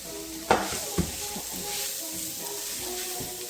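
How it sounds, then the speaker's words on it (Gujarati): Chopped vegetables sizzle steadily in a pan over a low gas flame for a sizzler dinner, a continuous close hiss broken by two sharp utensil knocks early on, with no talking. "અને આને આપણે ચડવા દઈશું વેજીસનો."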